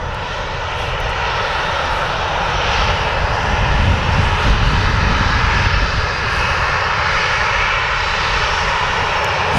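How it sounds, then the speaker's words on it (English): An Icelandair jet airliner lining up at Manchester Airport, with a steady, loud engine roar and rushing whine that swells slightly midway and carries on unbroken. "Look out to that Iceland Air, brand new livery."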